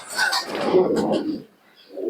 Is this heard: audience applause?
no